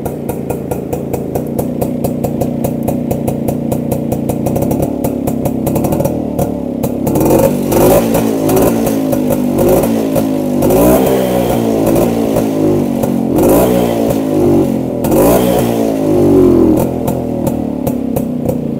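A restored 50-year-old Rajdoot Prime 175 two-stroke motorcycle runs close by, a rapid popping idle that swells into repeated throaty revs and falls back, loud and steady throughout with no talk.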